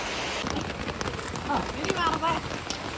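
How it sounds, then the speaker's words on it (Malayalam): Heavy rain falls in a constant close patter on surfaces, with a voice speaking over it partway through. "ഇന്നും മഴയാണ് ഗൈസ് ഫുള്ള് മഴയാണ്"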